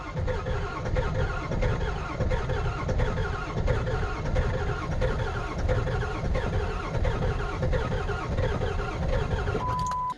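A Ford 7.3L diesel engine cranking for about ten seconds in a steady, loud, rhythmic churn that does not catch, ending abruptly.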